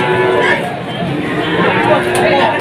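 A busy cattle market in Tuban, East Java, with cattle lowing amid loud crowd chatter and voices all around.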